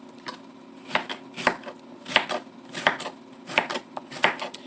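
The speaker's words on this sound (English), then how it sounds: "Just going to give it a rough chop real quick." Knife rough-chopping vegetables for shrimp aguachile on a cutting board, a steady rhythm of crisp, close thuds about once or twice per second with lighter taps between.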